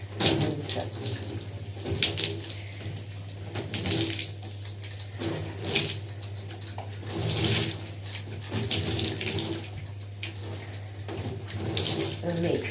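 Tap water runs steadily into a basin while shampoo is rinsed from hair, a continuous close splashing flow with small surges and a low hum beneath.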